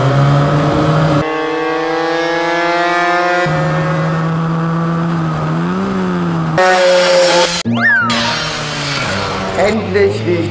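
Two-stroke racing mopeds at the Glemseck moped race run at full throttle, loud buzzing engines holding high pitch with sudden shifts and swells as they pass close, with shouting and talk over the top.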